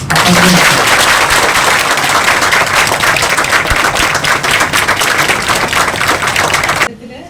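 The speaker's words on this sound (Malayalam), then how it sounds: "എല്ലാവർക്കും ഒന്ന് കൈയടിച്ച്" Loud, dense audience applause fills the room at a celebration marking a clothing store's social media milestone, a continuous rattle of many clapping hands that stops abruptly near the end.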